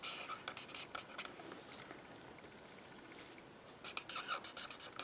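A marker's bullet tip rubs across cardstock in quick, soft scratchy strokes, coming in short bursts with a quieter pause in the middle. It is faint and close.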